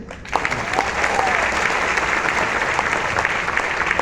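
Audience applause at a talk about RCM products given as Onam kits, dense continuous clapping that starts abruptly and carries on loudly, with some talk mixed in.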